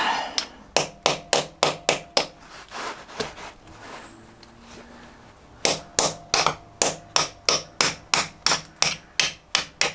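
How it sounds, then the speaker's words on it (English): Rapid, evenly spaced metallic hammer blows driving a socket onto a seized nut on a Triumph Street Triple cylinder head, a run of strikes, a brief pause with scraping, then another steady series of sharp hits. "Let's just try hammering this socket on."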